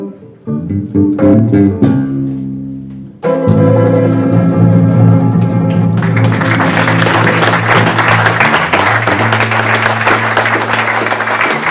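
Audience applause after a live band's rendition of a song at a talk event, swelling loud and sustained from a crowd while the music's final chord rings underneath.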